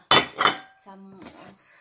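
A saucepan is set down and handled in a home kitchen while cooking cassava, giving two sharp metallic clanks close by followed by a brief ringing tone and lighter clinks.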